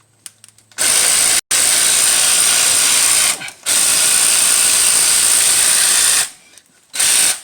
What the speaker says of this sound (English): speeding things up using my little ratchet here